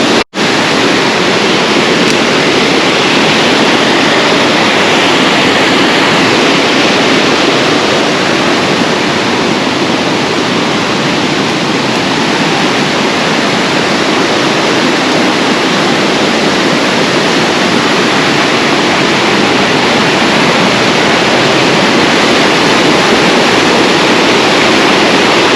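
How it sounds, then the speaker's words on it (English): Waterfall pouring into a pool below, a loud constant broadband roar of falling water that fills the whole stretch without a break. "So here we can see how beautiful the falls look like over there."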